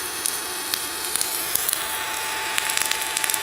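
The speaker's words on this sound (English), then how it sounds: "So that was spray transfer." MIG welding in spray transfer mode gives a steady, even hiss with faint crackles scattered through it, continuous and moderately loud with no talking.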